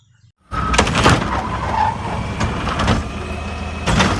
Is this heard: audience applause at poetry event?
no